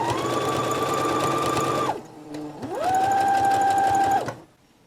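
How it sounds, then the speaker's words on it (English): A sewing machine top stitches two fabric layers of a face mask, whirring loudly and steadily in two close runs with a short pause between them, then stopping. "we're going to top stitch scant 1/8 of an inch from that seam line in the center, stitching both of those layers together"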